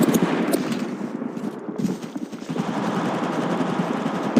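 Automatic weapon fire in the mobile battle royale game Apex Legends Mobile, dense rapid bursts rattling almost continuously at close range and loud, with game sound beneath.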